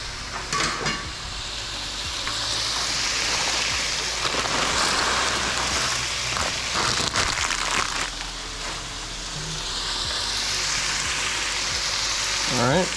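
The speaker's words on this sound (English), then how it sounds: "Nice sizzle." Fish, red grouper, sizzles loudly in a hot pan, a continuous crackling fry close by, with occasional scraping and stirring noises over it.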